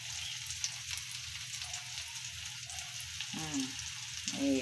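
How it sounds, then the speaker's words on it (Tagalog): Garlic, onion and tomato sizzle in a pan for an adobong kangkong dish, a soft, continuous frying hiss under a steady low hum, with a couple of brief scraping stirs near the end. "Ginisa ko muna yung bawang at sibuyas, kamatis."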